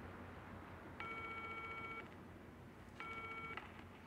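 Telephone keypad tones in the video game Still Wakes the Deep: two separate dual-tone beeps, the first about a second long and the second shorter, clean and faint over a low background hum.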